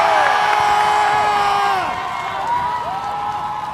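A crowd at a Streamer Games volleyball event cheers and shouts for Team Toast, with raised voices and whoops rising over a steady roar of many people for several seconds.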